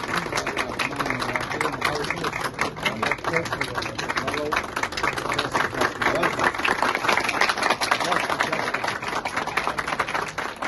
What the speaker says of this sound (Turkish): Biz de bir alkış çalalım.